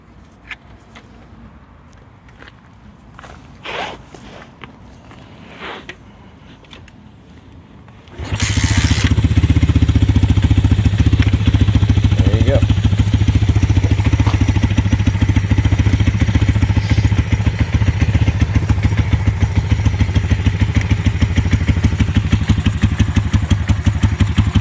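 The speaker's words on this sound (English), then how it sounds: "I'm going to kick start it over just to show you how easy it is to start." An FXX FX1 dirtbike engine is kicked over from cold: a few faint thumps and clatters, then the engine fires and settles into a loud, steady, close-up idle that runs on for over fifteen seconds.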